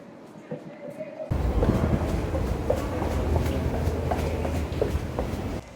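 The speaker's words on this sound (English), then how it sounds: "So this is the Cortlandt Street R train station at World Trade Center" A New York subway train at the underground Cortlandt Street R station by the World Trade Center, a steady loud rumble of the moving train that starts abruptly and holds until the end.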